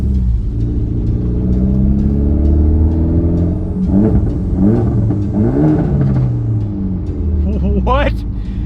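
Mitsubishi Evo X with a Tomei titanium exhaust, idling with a deep rumble, then blipped in several quick revs that rise and fall, close by, with a person talking over it.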